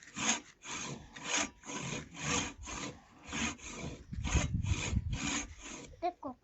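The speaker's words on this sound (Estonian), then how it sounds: "See on kusjuures tõenäoliselt maailma võib-olla kõige teravam saag üldse." A very sharp hand saw cuts through wood in about a dozen steady back-and-forth strokes, each a rasping swish, close and loud, with no talking.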